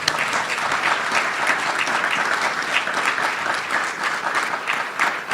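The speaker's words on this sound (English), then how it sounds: "Let's give them a big round of applause." Audience clapping warmly for three writers at a giant-screen storytelling event, a dense, sustained round of applause filling the room without letup.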